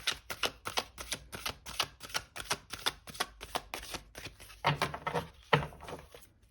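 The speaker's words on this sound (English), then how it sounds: "I will give the deck a few more shuffles" Tarot cards riffle and tap in a quick, rhythmic series of crisp flicks, close by, followed by a few heavier shuffling bursts.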